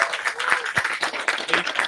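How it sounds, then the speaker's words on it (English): Applause from an audience at a news conference as a doctor is introduced to speak, a brief burst of scattered clapping with some faint voices. "Let's give a big round of applause"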